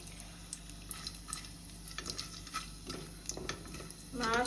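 Vegetable pulao ingredients with cloves and cardamom being stirred and sautéed in a pan, soft scraping and light sizzling with small ticks of the spoon, louder frying bursting in at the end.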